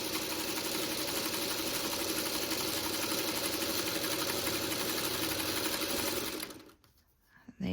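An older sewing machine stitches a quilt block in a steady, loud, close whir of rapid needle strokes for most of the clip, then stops abruptly near the end, leaving brief near-silence.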